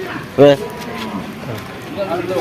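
A single loud buffalo moo bellows close by at a cattle market, followed by a murmur of background crowd noise and distant voices.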